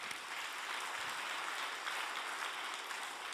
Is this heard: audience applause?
yes